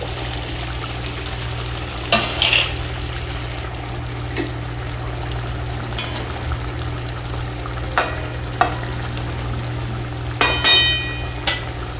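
Rohu fish heads fry in a pan for a rustic tomato tok chutney, giving a steady low sizzle. Scattered scrapes and knocks from stirring rise above it now and then, close and alone, with no talking.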